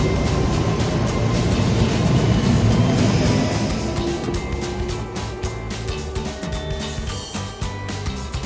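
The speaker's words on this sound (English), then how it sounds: "I am currently on the train" Steady loud rumble and hiss of a moving train in Japan heard from inside the carriage, a continuous close roar with faint rhythmic clicking toward the end and no talk.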